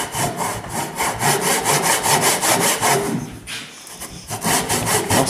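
A hand saw cuts through wood for a joint in furniture making, in steady back-and-forth strokes, close and rhythmic, pausing briefly before resuming.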